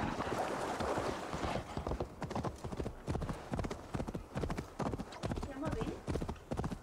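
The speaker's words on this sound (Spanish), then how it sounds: "Este es mi caballo, por lo visto." Rhythmic hoofbeats of a horse clip-clopping at a steady trot in the video game Assassin's Creed Valhalla, fairly close and clear, with a brief whinny early on and a voice talking over them.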